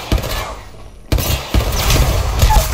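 Bursts of Volt submachine gun fire in the video game Apex Legends, loud and close, with an opening shot, a gap, then sustained rapid firing mixed with impacts and game effects.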